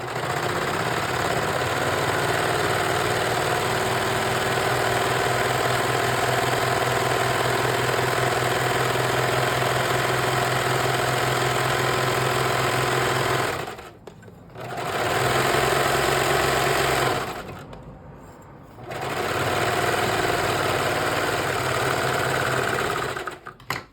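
Sewing machine stitching a fabric back strap on a tri top, running in a loud, steady mechanical whir with a fast rhythmic chatter, broken by two short pauses before it starts up again, with no talk.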